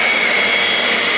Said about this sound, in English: And then I get my leaf blower.